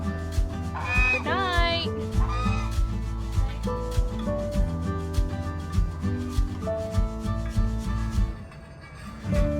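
Ducks are herded into their garden pen for the night, with rustling, scraping and scattered bird calls over a steady ticking rhythm, while a person speaks briefly nearby.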